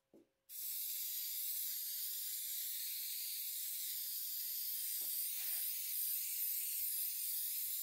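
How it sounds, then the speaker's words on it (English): Spray adhesive hisses from a can onto sandpaper being glued to a saw blade, a steady close sustained spray after a brief click, with a small dip partway through. "I'm gonna use spray adhesive to glue it onto the blade"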